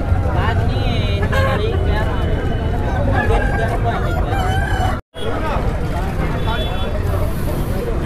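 Country chickens at a Sunday poultry market in Ongole crow and cluck amid steady crowd chatter and traffic noise, with roosters heard repeatedly over the busy, continuous background while people talk nearby.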